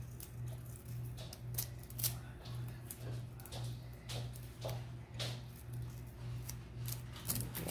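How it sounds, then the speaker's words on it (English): Scissors cut material straight up the middle for a resin clutch purse, giving a series of close, crisp snipping clicks in a fairly regular rhythm over a quiet background hum. "So you just cut it right up the middle."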